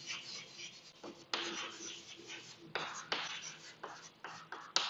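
Chalk or marker strokes scratching across a classroom board during a chemistry lecture on emulsions, a steady run of rubbing, scraping marks with sharper taps between strokes, close and fairly quiet, with no voice over it.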